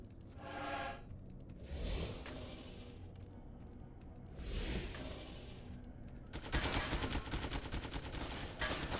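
Sentry guns firing in the action role-playing video game Torchlight, bursts of rapid gunfire and booms arriving in several separate volleys, with a denser, louder burst of shots near the end over game sounds.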